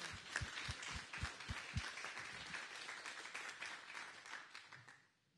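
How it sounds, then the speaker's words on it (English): Faint applause from a small group at a university senate meeting: distinct individual claps at first, blending into softer scattered clapping that dies away at the end. "why don't we give them a round of applause"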